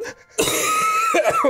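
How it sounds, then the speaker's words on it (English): One person gives a harsh, sustained cough lasting about a second, loud and close, after a short quiet moment, with a rasping, throat-clearing edge. "Stop coughing!"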